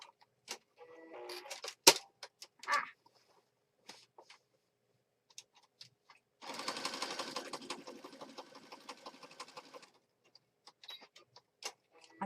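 A sewing machine runs a zigzag stitch in one continuous burst of rapid mechanical whirring, close and fairly quiet, set among scattered clicks and small handling taps before and after.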